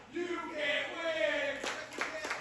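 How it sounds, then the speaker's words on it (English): Crowd noise at a wrestling dojo show: a steady, fairly loud wash of cheering voices with scattered claps, a few sharper hand claps standing out near the end. "Crowd in the dojo."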